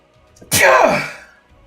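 A single person sneezes once, loud and close, with a short sharp burst that fades into a breathy tail in an otherwise quiet room.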